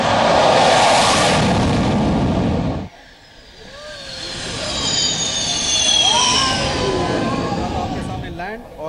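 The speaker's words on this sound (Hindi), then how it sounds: "यह जहाज आपके सामने लैंड और फिर तुरंत उड़ान भरेगा।" A Sukhoi 30 fighter jet touches down on the Agra-Lucknow Expressway and immediately takes off again, a loud roaring rush that cuts off and gives way to rising turbine whines, with a voice talking over it.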